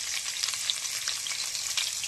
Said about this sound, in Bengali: কুচানো পেঁয়াজটা আমি তেলের মধ্যে দিয়ে দিলাম